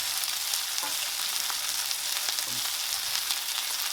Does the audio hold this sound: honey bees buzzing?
no